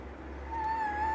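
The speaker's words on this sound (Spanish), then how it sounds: "Mau, el gatito Mau" A single short cat meow rises out of a quiet room, faint to moderate and close by, with a low steady hum underneath and no talking.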